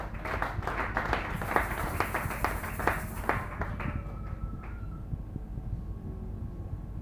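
A church congregation claps together in a lively, dense burst during a worship service, loud at first and then thinning out and fading toward the end, with a few faint tonal sounds lingering.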